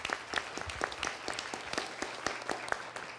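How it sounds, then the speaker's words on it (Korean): Audience applause for fashion designers closing a university styling class, a steady run of many hands clapping close by, dense and even throughout with no talk. "다시 한번 큰 박수 부탁드리겠습니다"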